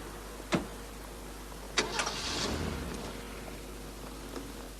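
A car engine cranks and catches, with a sharp click and a couple of quick starter bursts followed by a short rise into a low, quiet idle, faint and without voices.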